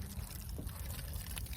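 Outdoors, water is poured over hair to rinse it, giving a short, continuous trickling splash close by with no talk.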